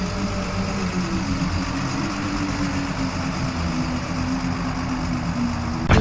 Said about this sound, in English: Sounds like an engine.